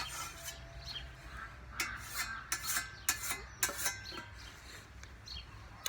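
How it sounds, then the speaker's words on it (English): Whetstone rubbed along the edge of a freshly peened scythe blade, a series of short rasping strokes that grow louder and more regular toward the middle, close up with no talking. "just give it a once over with the whetstone, in the same way as if you're sharpening the blade."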